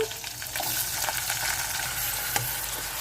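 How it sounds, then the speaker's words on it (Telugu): Steady sizzling of onions and green chillies frying in hot oil, a continuous crackling hiss with occasional pops and stirring, close and fairly loud, no voices. "ఉల్లిపాయలు పచ్చిమిరకాయలు ఇవి బాగా వేపేసుకుందాము"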